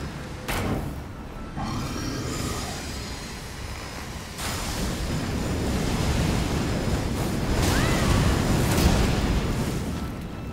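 A spear's wind skill in the video game Elden Ring roars as a gusting, surf-like rush of air, swelling and sustaining for about ten seconds after a couple of sharp opening hits.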